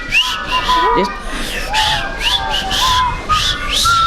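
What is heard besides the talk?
person whistling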